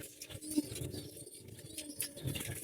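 Low, soft pigeon cooing from a loft bird, repeated close by over steady background rustle, with no voices.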